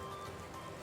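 Eggs frying in melted butter in a pan, a steady close sizzle and fine crackle with no talk over it.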